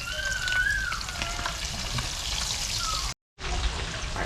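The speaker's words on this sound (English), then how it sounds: "While that fish is frying" Largemouth bass sizzles and crackles steadily in a hot pan, a continuous frying hiss with a brief cut to silence before it resumes.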